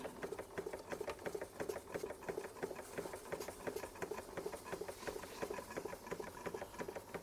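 Bing 130 382 toy steam engine running with its water pump, a rapid, steady mechanical chuffing and clatter with even rhythmic beats throughout, fairly close and alone.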